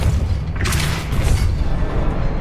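A Confringo blasting spell explodes in Hogwarts Legacy, a single loud broadband boom that bursts out and then fades into a steady rumbling game soundscape.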